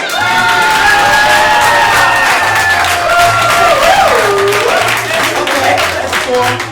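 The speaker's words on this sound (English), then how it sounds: "We got some woos intermittent with the clapping there" Live audience at an improv comedy show cheering loudly, with rising whoops and woos over continuous clapping and crowd roar, sustained and close throughout.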